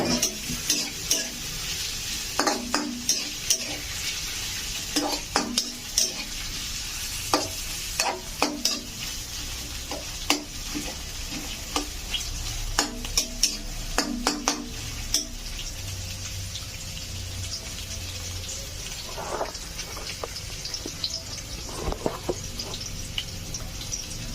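Hotdogs and fried chicken are stir-fried in a pan for rice, with a steady sizzle under repeated scraping and clattering strokes of a spatula at close range.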